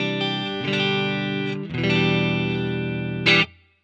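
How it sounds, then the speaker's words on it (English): A clean Marshall-style electric guitar tone from the Amplitube 5 amp simulator plays a few sustained chords with bright ringing harmonics, each strum decaying, then a final sharp pluck that cuts off; no voices. "So there we have a pretty nice little Marshall clean sound with the same amp."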